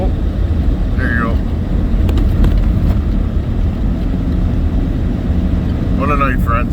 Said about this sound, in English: We are driving through a foot of snow.